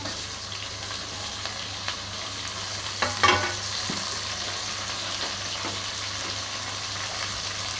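Steady sizzling of chopped tomatoes frying in a pan, with occasional stirring scrapes and a brief clatter midway, no talking.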